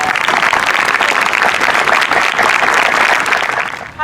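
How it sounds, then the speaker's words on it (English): Loud, dense applause from a middle school closing ceremony audience, a continuous wash of clapping for about four seconds before dropping off abruptly at the end. "can you join me in giving them a big round of applause?"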